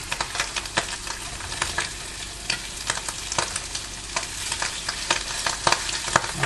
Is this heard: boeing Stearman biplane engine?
no